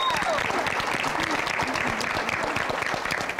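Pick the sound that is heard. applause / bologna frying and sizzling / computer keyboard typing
applause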